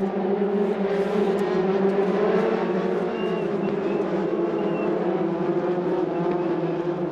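Formula Renault Eurocup race cars at Paul Ricard run behind a safety car, a loud sustained engine drone with steady harmonic tones that holds throughout, close and without breaks.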